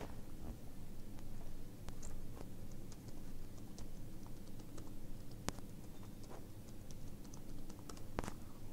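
Keys on a computer keyboard clatter as a password is typed in a quiet room, a faint run of uneven close clicks with a few louder taps scattered through.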